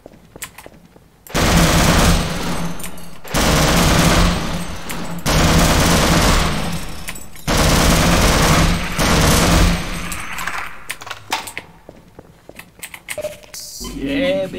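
Gunfire in the video game Half-Life comes in four long, loud sustained bursts of rapid automatic fire, followed by scattered single shots and game sounds; someone speaks briefly near the end.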